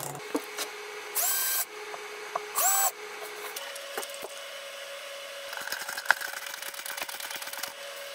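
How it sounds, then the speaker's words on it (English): A drill cuts a countersink into the wooden back wall of a drawer cabinet in two short, loud whirring bursts, followed by softer scraping and handling noises nearby. "Now to drill the countersink."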